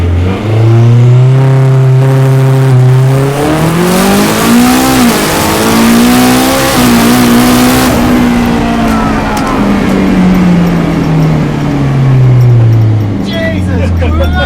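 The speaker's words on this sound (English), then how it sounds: "We'll see how it launches on sort of medium boost." A homemade Mazda RX-7 fitted with a Honda engine, a BMW four-wheel-drive gearbox and a welded diff launches hard on medium boost with pump fuel, the engine revving loudly and climbing through gear changes, close and dominant throughout.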